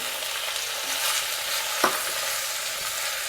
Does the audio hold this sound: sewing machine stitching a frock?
no